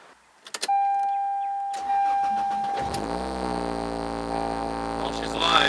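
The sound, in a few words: Toyota 7AFE engine cranking and starting in Geo Prizm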